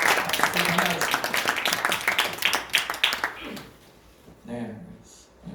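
A church congregation at a youth and teen retreat worship service applauds the pastor and worship team with loud, dense clapping that fades out before someone speaks.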